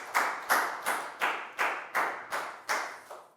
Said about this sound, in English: a big round of applause for Nadia